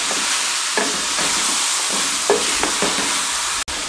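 About one and a half kilos of beef pieces are stir-fried in a karahi, sizzling steadily with scraping stirs from a spoon and a sharp clack near the end.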